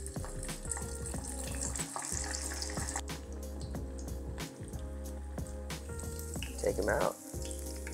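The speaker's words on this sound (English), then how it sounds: "you want the oil to be around 375, between 375 and 400, and it is time to fry" Shrimp fried rice balls deep-frying in oil heated to about 375–400 degrees, a busy bubbling sizzle with clinks and splashy handling noises; a person speaks briefly near the end.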